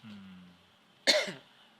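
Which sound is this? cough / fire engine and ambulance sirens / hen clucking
cough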